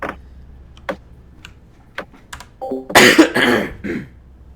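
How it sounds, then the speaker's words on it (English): Person clearing their throat up close near a computer, a short rough burst of throat noise following scattered keyboard clicks and a brief tone. "I'm unable to clear my throat right now."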